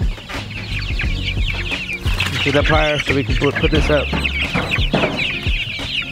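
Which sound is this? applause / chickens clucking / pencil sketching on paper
chickens clucking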